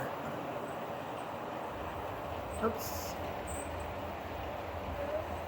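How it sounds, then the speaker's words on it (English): HO scale model trains, including a 100-car train, run around a helix layout with a continuous low rumble and rolling wheel noise, a brief clack midway, and someone speaking briefly over it. "this is my Helix with trains running"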